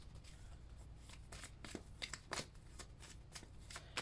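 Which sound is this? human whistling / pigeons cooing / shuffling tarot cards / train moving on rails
shuffling tarot cards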